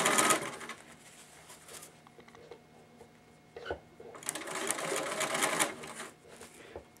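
A sewing machine stitches tarp material in loud rattling bursts at the start and again in the second half, with a quieter stretch between where it stalls before starting up again.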